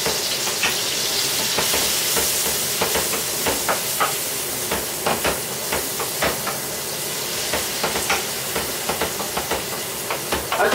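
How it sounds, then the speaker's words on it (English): Mushrooms and garlic butter for stuffed chicken sizzle steadily in a pan at close range, with a constant frying hiss broken by the repeated clicks and scrapes of a utensil stirring through the food. "let's stir"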